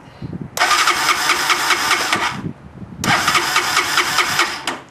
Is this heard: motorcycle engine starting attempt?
yes